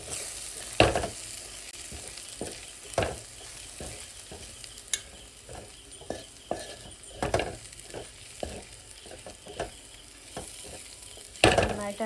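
Masala spices, including coriander powder, sauté in a pan for a Mughlai-style chicken curry: a low continuous sizzle broken by sharp, irregular scraping and clinking strokes as a spatula stirs them.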